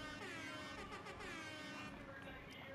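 Airhorn emote in the video game Fortnite: a loud, continuous blaring horn blast with a rich buzzy tone holds steadily for a few seconds.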